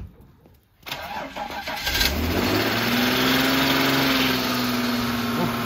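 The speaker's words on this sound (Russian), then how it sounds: "Поларис завелся" A Polaris vehicle's engine cranks and catches, then settles into a steady, loud running idle with a slight rise in revs, close by and with no talking over it.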